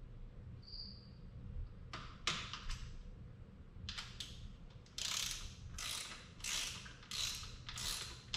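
A ratchet tightens clamp bolts, with Loctite on the threads, on a BRP rubber sub mount kit, torqued to 20 foot-pounds. Bursts of close mechanical clicking come in several runs, spreading into a steady rhythmic series in the second half.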